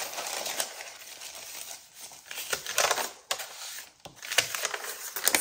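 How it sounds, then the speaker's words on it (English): Two sheets of thin onion paper crinkling and rustling in the hands, a run of crisp dry crackles and soft scrapes, close and moderately loud, with brief pauses between handlings. "Two pieces of onion paper. The sound is amazing."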